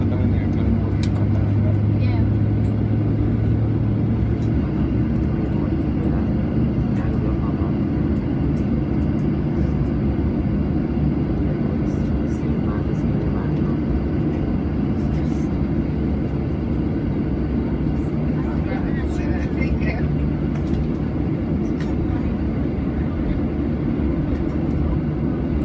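Cabin noise of a Southwest Airlines airliner pushing back from the gate at Phoenix Sky Harbor: a loud, steady low rumble and engine hum throughout, with faint clicks and no clear talking.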